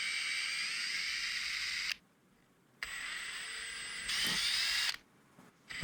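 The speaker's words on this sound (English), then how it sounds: "Electric screwdriver makes quick work of this." A handheld electric screwdriver backs out screws holding the wheel on a high-power electric skateboard, running in two loud whirring bursts of roughly two seconds each, separated by brief quiet gaps, with no talking.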